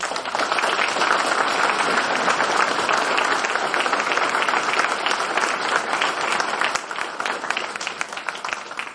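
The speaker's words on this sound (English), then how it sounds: "I'd like you to give them a big, big round of applause." A crowd at a boxing club museum opening gives loud, sustained applause for young Cork boxers, a thick steady roar of clapping that thins slightly toward the end.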